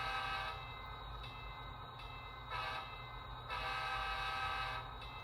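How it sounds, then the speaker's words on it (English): A loud, chiming multi-tone K5 horn on a four-axle diesel locomotive sounds in repeated long blasts with brief gaps, close by, with no talking. "I did replace the M3 horn on these with a K5 horn"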